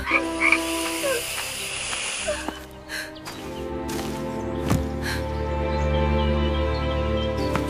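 Frogs croak repeatedly and loudly during a narrated fairy tale, each croak harsh and close. Sharp hisses and snorts are mixed among them against a low, steady background.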